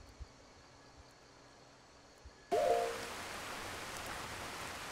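Rain in Skyrim starts abruptly after quiet ambience, a sudden loud, steady hiss of falling rain that continues evenly, with a brief hoot-like call as it begins.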